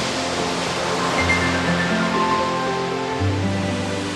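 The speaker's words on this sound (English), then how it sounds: "the wind-driven crashing waves at our shores" Wind-driven Atlantic ocean waves crash on the shore in a constant loud roar of surf, with low tonal hums running underneath.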